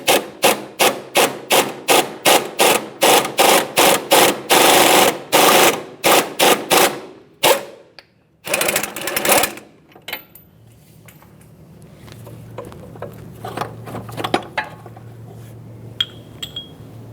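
A tool presses the upper ball joint out of a 2003-2007 Honda Accord with a fast run of sharp, rattling impact bursts. Then come a few louder bangs and clanks, and the work ends in quieter handling noises with a low hum.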